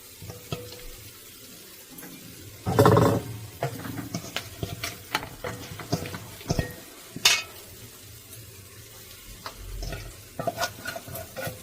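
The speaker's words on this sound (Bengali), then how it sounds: "এবার ভাজা হোক হালকা করে" Food frying in a home kitchen pan, with a soft background sizzle broken by irregular stirring scrapes and utensil clinks, one louder burst early on, and no talking.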